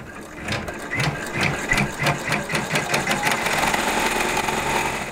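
A Brother PR1055 embroidery machine stitches a hollyhock quilt block, a close, loud, fast rhythmic needle clatter with a mechanical ratcheting whir that runs steadily for several seconds.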